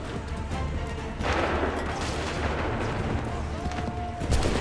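Musket volley in battle from Assassin's Creed III, a dense crackling roar of gunfire with booming bursts that sustains throughout, loud and close.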